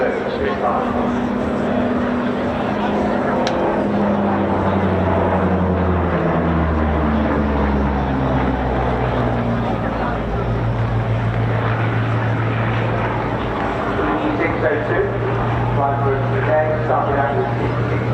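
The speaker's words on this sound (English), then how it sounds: "every air show should have an opportunity for some solo Spitfire." A Spitfire flying a solo display at an air show, its propeller engine droning loudly and rising and falling in pitch as it sweeps past, under a running commentary voice.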